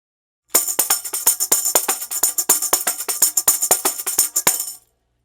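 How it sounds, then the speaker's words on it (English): A tambourine shaken and struck against the hand in the gospel church manner, playing a quick syncopated cinquillo pattern with bright jingling hits, close and alone for about four seconds. "they'll play the rhythm with the tambourine in the dominant hand, and they'll work it against the hand like this"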